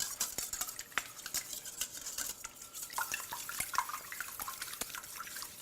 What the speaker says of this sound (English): I'm gonna go ahead and whisk this up and just break apart all the egg yolk